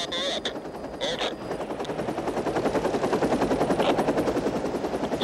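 Helicopter flying along a river, its rotor chop a steady loud rapid pulse that builds slightly, with a few brief higher sounds over it.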